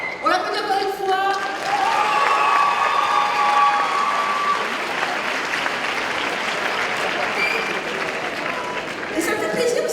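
Sustained audience applause at a cosplay contest during a Polymanga 2016 convention, a dense wash of clapping from a large crowd that holds steady for the whole stretch, with brief voices and cheers near the start and end.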